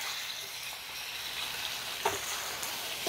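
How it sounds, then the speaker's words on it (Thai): Pork leg stir-fried in a pan for Thai palo stew gives a short, steady sizzle with one brief scrape of a utensil partway through. "ใส่หมูลงไปผัด"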